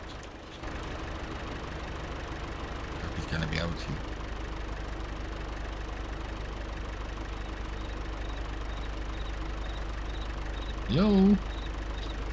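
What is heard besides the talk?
tractor engine climbing a hill in a farming video game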